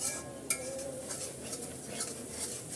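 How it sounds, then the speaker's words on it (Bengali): A spoon stirs biryani spice paste frying in a pan, giving soft scraping and a quiet sizzle with a sharp clink of metal against the pan near the start. "আমি মশলাটা ভালো করে কষিয়ে নিচ্ছি"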